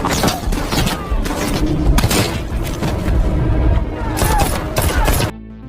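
A film shootout in which military troops trade fire with a man named John: dense, loud bursts of rapid gunfire and booming explosions roar continuously for about five seconds, then cut off abruptly into near silence.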